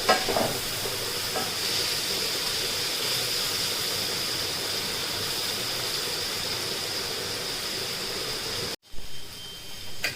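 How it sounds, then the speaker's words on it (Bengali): Pumpkin and bitter gourd frying together in a pan, a steady dense sizzle and hiss lasting throughout, briefly cut off near the end before resuming. "এবার কুমড়োটা আর উচ্ছেটা আমি ভালো করে একসঙ্গে ভেজে নেব।"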